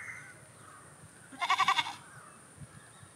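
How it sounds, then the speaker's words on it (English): A farm goat gives one clear, wavering bleat of about half a second, a series of rapid pulses that rises above quiet background hiss, then the scene goes still again. "What sound does a goat make?"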